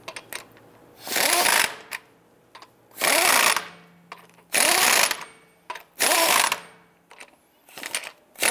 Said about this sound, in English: Once we have all these on, we're gonna go ahead and snug them down.